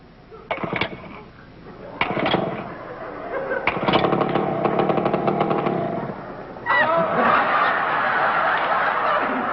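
A small motor, like an outboard, is started in a TV studio and sputters into a rapid, rhythmic popping run, with bursts of studio audience laughter rising over it.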